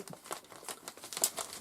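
Gift package wrapping torn open by hand, a burst of quick crinkling and ripping rustles, close and fairly quiet, with no voices.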